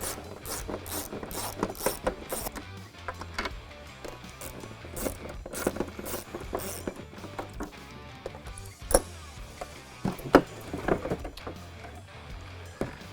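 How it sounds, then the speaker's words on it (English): A ratchet wrench with an 8mm socket backing out screws on a 2021-2022 Ford Bronco taillight, giving rapid, close, steady clicking with small metallic handling noises and no talk. "now we take our 8mm socket and come right in on the taillight."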